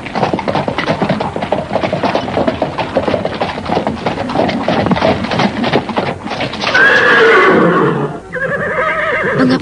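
A pair of horses neighs and gallops while pulling a cart, with steady hoofbeats running throughout, then loud, close whinnies rising near the end.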